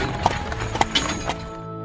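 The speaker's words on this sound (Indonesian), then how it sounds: "Lalu terdengar derap kuda." Rhythmic hoof beats clop over a dense rumbling background, with a few distinct strikes standing out, fairly close.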